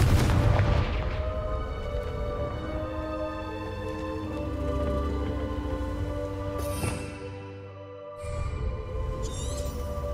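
Confringo blasting spell going off in Hogwarts Legacy, a loud booming explosion at the start followed by a long rumbling, crackling tail with debris-like patter, a sharp burst near the middle and a brief dropout before the rumble returns.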